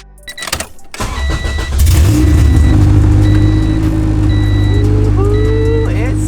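Honda Civic with a B18C engine cranking for about a second, catching, then settling into a loud, steady idle with a slight rise in revs, close up; a few high beeps and a brief voice can be heard over it.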